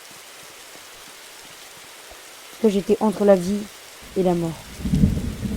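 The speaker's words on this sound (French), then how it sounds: "On entend l'orage." In a forest survival video game, a soft, steady hiss of rain runs underneath, then a thunderstorm rumble builds near the end, with voices talking over it in between.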